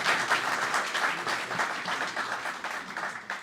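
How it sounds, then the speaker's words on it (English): Steady applause from an audience after a presentation at a commemorative event, a continuous even patter of many hands at moderate loudness, holding throughout with a slight fade at the end. "An applause, please."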